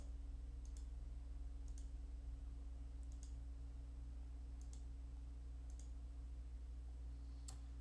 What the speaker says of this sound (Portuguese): Se eu clicar aqui nesse gráfico